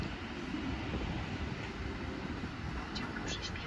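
A Warsaw airport train runs with a steady broadband rumble throughout, with faint higher squeals near the end and no clear talk.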